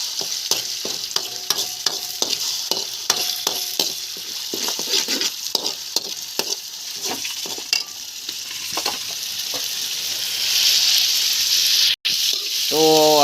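Onions frying in a pan with tomato gravy being added for pasta, a continuous close sizzle with frequent rhythmic scraping and clinking of a spoon, the hiss growing louder and steadier toward the end.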